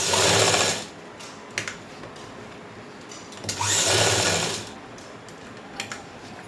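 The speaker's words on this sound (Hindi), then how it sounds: "ऐसे लगाते हैं इलास्टिक की सिलाई, और 4-5 बार इसको ऐसे कर लेना है" A sewing machine stitches elastic onto pants in two close, loud whirring runs of about a second each, separated by a quieter pause with small clicks and handling sounds, with no speech.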